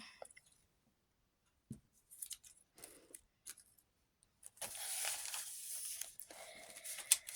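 Paper surprise packets being opened by hand, with sparse crinkles and snips at first, then a longer stretch of steady rustling and tearing paper up close, fairly quiet, with no talking.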